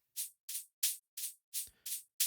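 A processed noise ride with convolution reverb and hi-hat resonance, carrying an electronic drop: seven bright, short hits in an even, quick pulse, each with a brief airy tail, heard alone.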